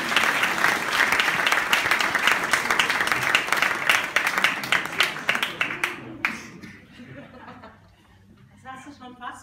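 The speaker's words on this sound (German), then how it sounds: "Applaus für die Miriam mit 1000 erste Dates aus" Dense, loud audience applause greets comedian Miriam at a German comedy show, with scattered chuckles mixed in; the clapping thins and fades after about six seconds, leaving a quieter patter of a few hands.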